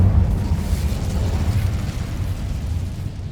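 The Incendio fire spell in Hogwarts Legacy, a sustained low roaring whoosh of flame that booms at the start and keeps rumbling steadily, heavy and close, with no talk.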